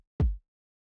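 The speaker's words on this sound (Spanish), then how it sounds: "Tenemos un kick." A single deep kick drum sample from Groove Agent SE5 in Cubase, one short boomy thump that decays quickly into silence.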